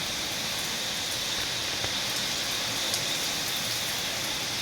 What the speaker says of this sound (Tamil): அப்படியே கொட்டிகிட்டே தான் இருக்குது மழை.